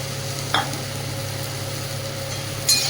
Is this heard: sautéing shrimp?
yes